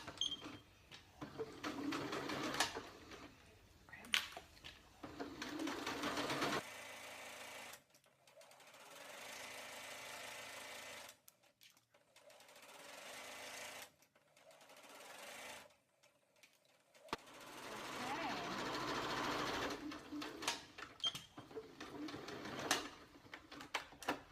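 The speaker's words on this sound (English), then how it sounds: "I've just gone for a very small stitch, just a number 1 straight stitch, and yeah, I will just sew my line straight in." A sewing machine runs a small number 1 straight stitch seam on a red dress in several loud whirring bursts, with short pauses between runs and softer stretches mid-way.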